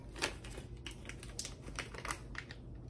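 A crinkling plastic package of vanilla beans is wrestled open, giving faint, irregular crackles and crinkles in short scattered bursts close by.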